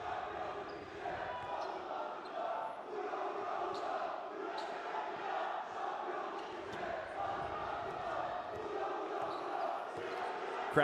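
A basketball arena crowd at a Champions League game between Banvit and Nanterre 92 roars and cheers at a steady level for the whole stretch, with a commentator talking over the noise.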